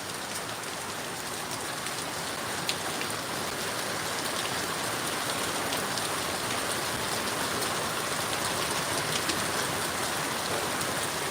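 Heavy rain pours steadily during a storm in Barnsdall, Oklahoma, a dense, continuous hiss of drops striking surfaces close by, unbroken and loud for the whole stretch.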